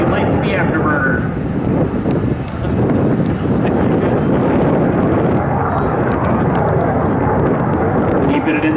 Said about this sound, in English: He lights the afterburner.